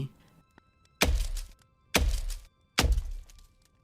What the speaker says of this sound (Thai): เสียงสับไม้ดังปุกปักขึ้นมาในราวป่า